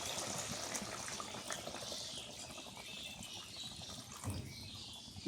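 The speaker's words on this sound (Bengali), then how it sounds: "ঝোলের পানি দিয়ে দিই।" Water poured into a simmering hilsa fish curry to make the gravy, a steady splashy pouring wash running throughout at moderate loudness with no talk.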